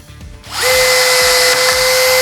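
A Stanley drill with its torque set to 15 drives a screw into soft wood, first a few ratcheting clicks, then a loud, steady high-pitched motor whine held close for the rest of the clip.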